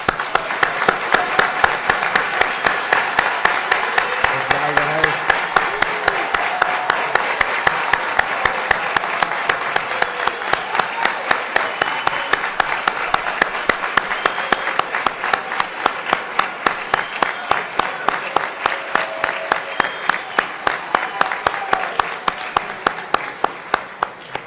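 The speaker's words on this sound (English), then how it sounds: "Please give a round of applause to our graduates." Sustained applause from a large audience honoring graduates at a CBP graduation ceremony, steady dense clapping that runs throughout and slowly thins toward the end.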